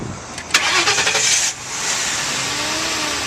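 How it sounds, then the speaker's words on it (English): A car engine cranks briefly and catches, then settles into a steady idle, close by with no voices. "So I'll go ahead and I'll start the vehicle."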